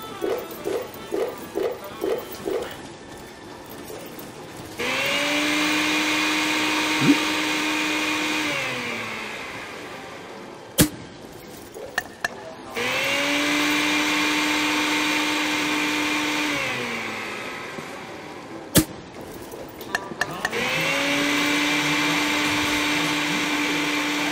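A blender whirs loudly in the video game Dead Rising, running in three long steady bursts separated by short pauses, with a few brief clicks and sharp game sounds between the runs.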